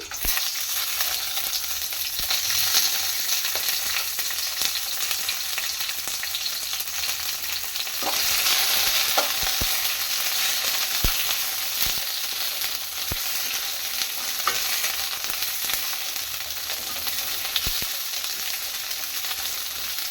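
Brinjal frying in hot oil in a pan for a North Karnataka stuffed brinjal dish, a steady loud sizzle throughout with occasional scraping stir clicks, no voices.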